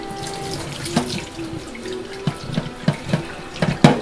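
Warm tap water runs into a sink for a Maine Coon cat bath, a steady close splashing with irregular drips and small knocks throughout.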